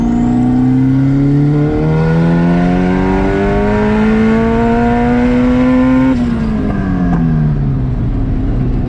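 Boosted red hatchback engine revving hard through a tuning pull, a loud, close continuous rise in pitch that climbs steadily for about six seconds before dropping off as the throttle closes.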